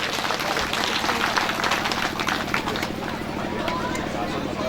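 Sustained, dense audience clapping at a Hindu mahayagya religious ceremony in Bardiya, Nepal, continuous and loud throughout with crowd babble mixed in.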